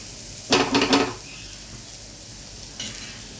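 Cashews fry in a pan for Bengali pulao, with a short burst of scraping stirs and sizzling up close, then a quiet faint sizzle and a brief second stir near the end.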